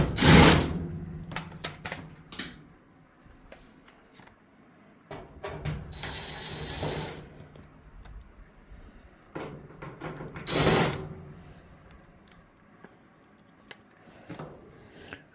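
Screws are backed out of the rear panel of a Samsung clothes dryer during a repair: short bursts of whirring driver noise and metallic scraping, separated by quiet gaps and small handling clicks, close by.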